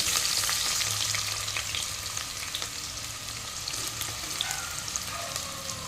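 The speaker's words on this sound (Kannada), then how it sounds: "ಇವಾಗ ಎಣ್ಣೆ ಬಿಸಿ ಆಯಿತು ನೀರುಳ್ಳಿಯನ್ನು ಫ್ರೈ ಮಾಡ್ತೇನೆ" Sliced onions fry in hot oil mixed with ghee, a dense continuous sizzle with crackling pops and occasional stirring scrapes, close and steady with no talking.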